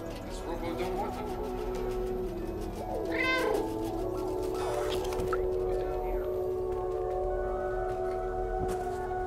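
A house cat meows several times in a row, close and fairly loud, its rising calls standing out over a steady low background hum, with no talking.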